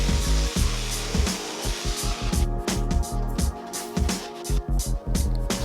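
A router clamped into an X-carve is pushed by hand back and forth while milling slots, giving a loud whining motor with cutting bursts that rise and fall in uneven surges over several seconds.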